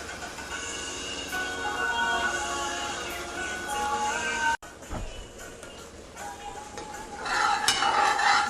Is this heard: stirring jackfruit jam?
yes